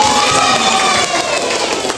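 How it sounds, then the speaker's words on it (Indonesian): Children in a classroom cheering and shouting together in a loud burst, with clapping likely mixed into the noisy crowd sound. "Tepuk tangan."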